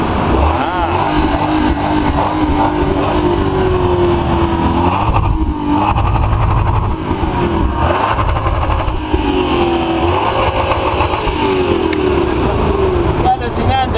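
A Lexus SC 430 engine revs hard and holds at high pitch for about fourteen seconds, loud and close, with people talking over it.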